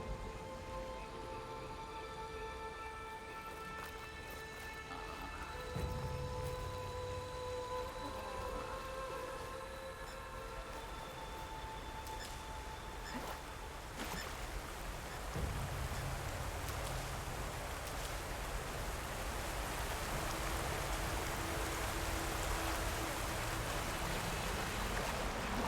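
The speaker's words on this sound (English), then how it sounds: "Oh man, look at this waterfall." Waterfall in the Horizon Forbidden West video game: a steady, broad rush of falling water that fills the clip continuously, growing slightly louder and fuller partway through, with no voices.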